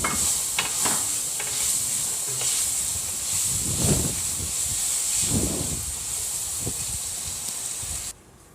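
Onion and garlic sauté in a hot pan, a steady close sizzling hiss broken by a few scraping stirs, cutting off abruptly near the end.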